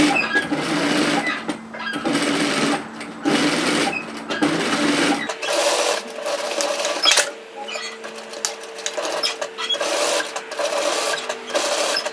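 A sewing machine stitches a knit cardigan seam in close, steady bursts of rapid mechanical chatter, pausing briefly between runs, with the motor tone shifting midway.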